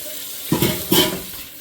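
Tap water runs into a sink during dishwashing, coming in two short splashing bursts over a faint background hiss, close by with no talking.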